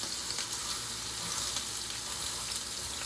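Chicken pieces fry in a pan of hot oil with a steady, dense crackling sizzle that runs unbroken throughout, close and moderately loud, with no voices over it.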